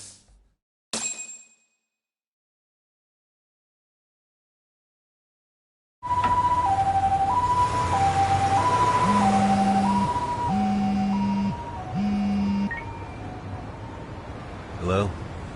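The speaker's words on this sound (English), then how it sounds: "Can you get an ambulance over to your bar right away?" A wailing ambulance siren in the Lost Judgment video game, with a two-tone pattern that alternates steadily and sounds loud and close over street noise, following a short burst of sound and several seconds of silence.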